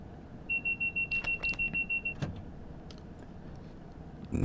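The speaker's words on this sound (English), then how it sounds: "Not sure why we're receiving a vigilance a vigilance alarm just then, because I've clearly been interacting with the controls" Train Sim World 5 commuter train cab on the Manchester Airport route: a steady high warning alarm pulses about ten times in a quick even rhythm, loud and close, over low cab rumble, then gives way to clicks and control noise.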